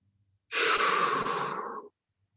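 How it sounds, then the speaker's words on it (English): A single heavy exhaled breath during a home workout, a breathy rush lasting just over a second that starts abruptly and tapers off, close to the microphone with silence on either side. "Get a few breaths."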